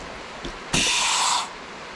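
A brake bleeder pump depressurizing on a Z31 300ZX fitted with a Brembo big brake kit releases one loud, close burst of air hiss lasting under a second, after a soft earlier puff.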